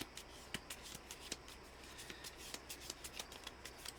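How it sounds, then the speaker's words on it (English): Playing cards being shuffled by hand, a series of quiet, crisp riffling snaps and flutters in an irregular rhythm, close and soft against a low background hiss. "I'm just shuffling some more."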